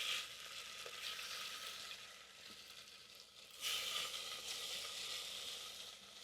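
Beef pieces searing in a tablespoon of avocado oil in an Instant Pot on sauté, giving a steady broad sizzle that swells louder partway through and stays close and continuous, with faint clicks and no talk.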